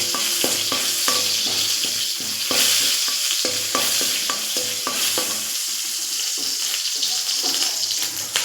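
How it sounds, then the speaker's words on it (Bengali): Bay leaf and a few fennel seeds fry in hot oil, producing a loud continuous sizzle broken by frequent sharp pops and crackles and the occasional scrape of a utensil. "তেল গরম হয়ে গেছে, তেজপাতা দিয়ে দিলাম আর এই 2-4টে মৌরি দিয়ে দিলাম"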